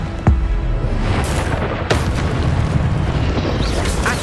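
An Incendio fire spell blasts in a Hogwarts video game, a sudden booming burst followed by a crackling, roaring rush that continues amid further sharp impact hits.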